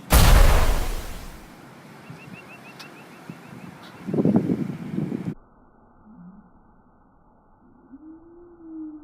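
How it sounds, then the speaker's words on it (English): An explosion in a physics demonstration of momentum conservation: a loud, sharp boom at the start that decays into a rumbling tail, followed by a second burst of rumbling about four seconds in, then a quiet low drone. "Next, let's look at some explosions."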